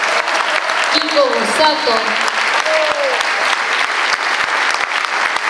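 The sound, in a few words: audience applause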